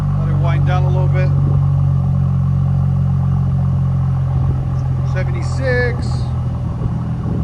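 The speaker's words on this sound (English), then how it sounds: "It's a good idle on it too." A 2018 Mercedes E 400 with a 3.0L twin-turbo V6 and straight pipes idles with a steady, close, deep rumble, while people talk briefly over it.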